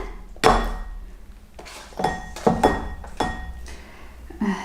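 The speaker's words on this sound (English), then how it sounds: "Let's get my glass bowl back over here." A glass bowl is set down on a kitchen table while preparing vegan Christmas starters, giving several sharp clinks and knocks spaced over a few seconds, close and clear.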